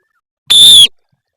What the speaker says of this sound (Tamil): விசில் பண்ணுங்க. விசில் பண்ண உடனே தான் நீங்க சேண்ட் பேக்கை தூக்குறீங்க.